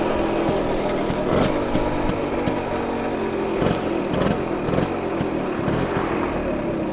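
BSA Bantam 175 motorcycle engine running on a test ride, a steady buzzing two-stroke drone with rhythmic pulses and wind rush, heard close and continuous.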